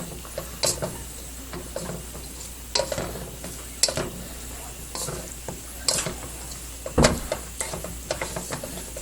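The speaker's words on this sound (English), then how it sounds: "I'm using whole kernel sweet corn, drained. You can just add that in. Give her a quick stir around here." Drained whole kernel sweet corn is stirred in a hot pan, a utensil scraping in irregular bursts over a quiet sizzle.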